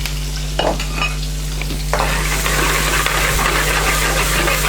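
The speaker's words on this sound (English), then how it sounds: "While that garlic's sizzling away there, we're going to throw in some finely diced onions and peppers" Garlic, finely diced onions and peppers with a touch of methi sizzle steadily in a hot balti pan, with a louder surge of frying as they go in partway through and stirring scrapes over the constant hiss.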